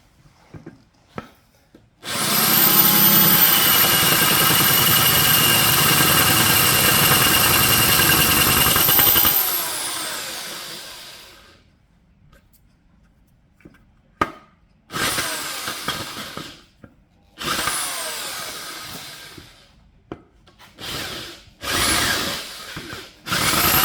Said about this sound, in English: So I have attached an electric drill and I will start to rectify.